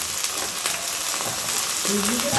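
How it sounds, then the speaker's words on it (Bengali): Bathua greens hiss as they fry with browned onions in a pan, giving a close, continuous sizzle with a brief tonal voice near the end. "পেঁয়াজগুলো ভাজা ভাজা হয়ে গেছে এখন শাকগুলো আমি এর মধ্যে দিয়ে দেবো"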